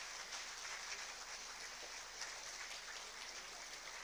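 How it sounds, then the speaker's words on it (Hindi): Audience at a government ceremony clapping continuously, a steady, faint wash of many hands heard from a distance with no talk over it. "एक बार जोरदार तालियां आप सभी बजा दीजिए"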